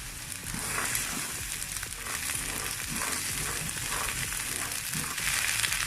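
Fresh green peas fry in a little oil in a pan, giving a continuous close crackling sizzle with occasional stirring scrapes throughout.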